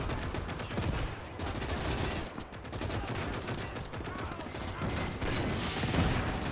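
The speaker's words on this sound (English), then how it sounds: "And the machine gun's not helping either." Machine gun fire in Call to Arms: Gates during a 1944 Soviet advance against a German encirclement: steady, rapid rattling bursts that run almost continuously, moderately distant, with a short lull before the firing resumes.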